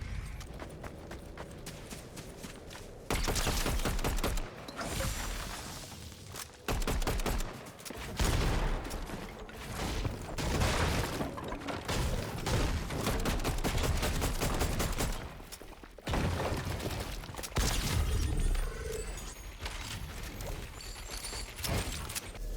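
Rapid bursts of gunfire from the Fortnite video game, loud and dense, with dry repeated shots and clattering mechanisms in clustered volleys and brief pauses, no talk.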